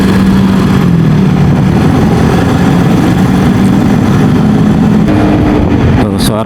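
A Yamaha XMAX scooter engine with an upgraded pulley runs with a loud, rough, continuous low drone heard close up, while someone speaks over it.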